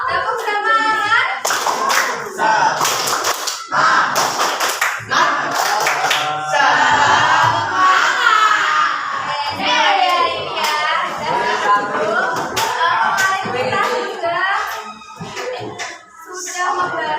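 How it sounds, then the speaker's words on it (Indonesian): Schoolchildren in a classroom perform the 'tepuk semangat' clapping chant, rhythmic bursts of group claps alternating with sung and chanted children's voices, lively and close, continuing throughout. "Tepuk semangat."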